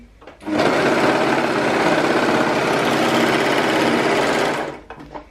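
A sewing machine runs steadily while stitching a seam on Hudson pants, a close, loud, continuous whirring buzz lasting about four seconds before stopping, with a few faint handling sounds at the end.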